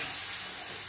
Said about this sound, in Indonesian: Bumbu kita goreng bumbunya dulu